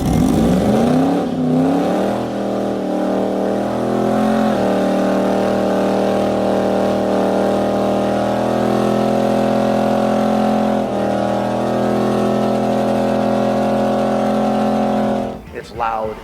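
A 1981 Corvette's V8 engine revs up and then holds a loud, steady, rumbling idle with rich harmonic drone for many seconds, easing off briefly before cutting out near the end.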